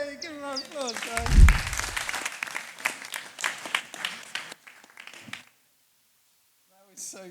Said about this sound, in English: give him a applause, guys